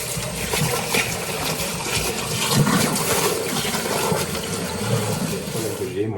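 Pressurised water jets from a tap into a Geberit toilet cistern to clean it, a continuous close gushing and splashing that is loud throughout.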